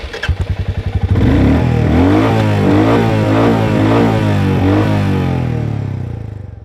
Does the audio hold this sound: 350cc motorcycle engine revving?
yes